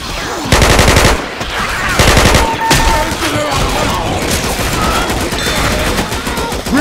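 Rapid automatic gunfire in a video game crackles in loud, dense bursts, with sustained fire and scattered thuds continuing throughout.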